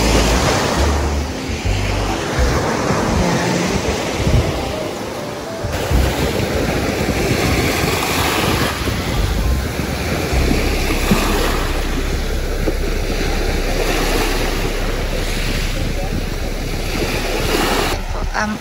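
Sea surf washing onto a clean beach beside a property in San Andres, Quezon, a steady, loud broadband wash with wind buffeting the microphone, heard throughout without pause.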